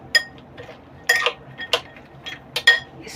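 A spoon mixes roasted makhana into bhel in a bowl, giving scattered bright clinks and scraping taps in an irregular rhythm, close and fairly quiet, with no talking.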